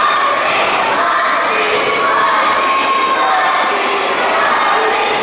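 A loud, steady roar of crowd cheering and shouting fills a wrestling show in Palatka, Florida, as a heavyweight championship match begins. The noise is continuous and close.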